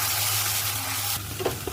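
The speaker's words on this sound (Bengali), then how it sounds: "এরপরে বেশ কিছুক্ষণ ধরে এটা কষিয়ে নেব" Ground spice paste and whole garlic sauté in a pan with a soft, steady sizzle that fades abruptly partway through, followed by a few faint knocks.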